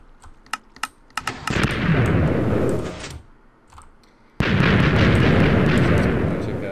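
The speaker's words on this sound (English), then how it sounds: "If you want to use just TNT, then just shoot it." A Minecraft TNT cannon fires and explodes in a video game, with a few quick clicks and then two heavy, roaring blasts. Each blast sustains for a couple of seconds, and a short lull separates them.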